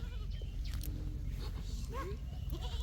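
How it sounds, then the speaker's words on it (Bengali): Several goat bleats rise over a steady low rumble, close by, in a rural household, with faint voices in the background. "নাদের মা ছাগল নিয়ে আয় করতেছে"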